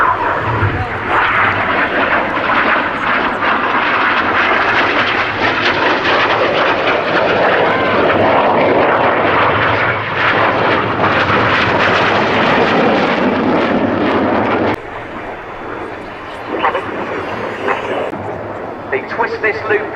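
Aerobatic display jets of the synchro pair roar low overhead at 100 feet while flying double rolls at the 2013 Cosford Airshow. The loud, sustained engine rush swells and then drops off near the end, with an announcer talking over it throughout.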